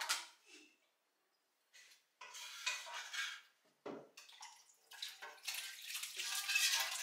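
Dishes, pots and cutlery clatter and scrape as they're scrubbed in a home kitchen on a weekend family morning, with intermittent bursts of running water and gaps of near silence between handling noises.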